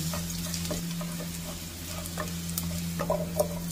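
Ginger frying in oil in a pan until golden brown; a continuous soft sizzle with a low steady hum beneath it and occasional light ticks and taps from stirring, close and unvoiced.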